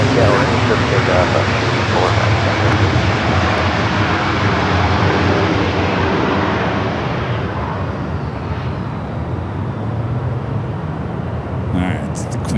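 A Delta jet airliner takes off at LAX, its engines a loud, broad, sustained roar that slowly fades as it climbs away, heard close and continuous, with talk over it.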